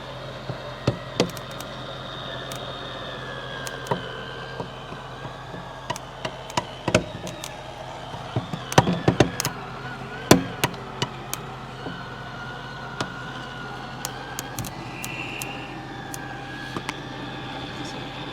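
A broken Schwintek RV slide-out extends with a slipping gear, making scattered sharp cracks and clunks over a steady low mechanical hum, with voices talking now and then.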